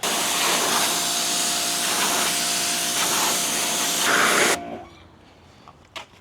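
Loud continuous hissing spray of Super Clean degreaser onto a big block Bronco truck, steady for about four and a half seconds before cutting off abruptly, leaving quiet handling noises.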